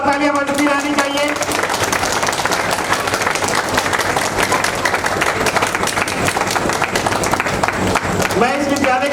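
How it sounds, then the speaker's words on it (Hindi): Loud, sustained applause from an audience fills a school Independence Day celebration at an Indian school for the blind, a dense steady wash of clapping with a voice briefly heard at the start and end. "तालियां, जोरदार तालियां बजती रहनी चाहिए।"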